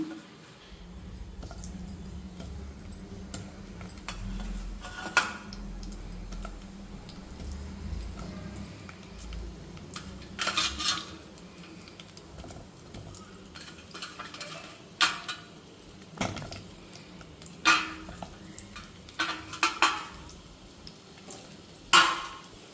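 Bitter gourd pieces frying in hot oil, a low steady sizzle with scattered louder clinks and scrapes of a utensil stirring in the pan.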